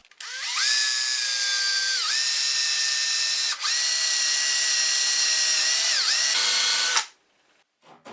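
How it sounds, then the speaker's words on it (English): A power drill boring a hole across the grain of a wooden tenon, a loud whining motor tone that briefly dips and resumes several times, then stops abruptly, with no talk. "So I am going to drill a hole here at 90 degrees with the grain"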